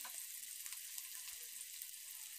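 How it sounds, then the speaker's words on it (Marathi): Finely chopped onion frying in a few spoonfuls of hot oil in a kadhai, a steady, faint hiss of sizzling that runs evenly throughout with no voices. "तेल गरम झालं की आपण बारीक चॉप करून घेतलेला कांदा यामध्ये टाकून घेणार आहोत"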